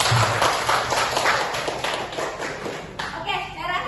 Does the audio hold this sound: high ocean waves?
no